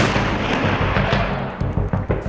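Repeated explosions and artillery-like thuds in war-torn Mosul, Iraq, dense low booms following one another in an uneven rhythm over a constant rumbling din, loud and fairly close with no voices.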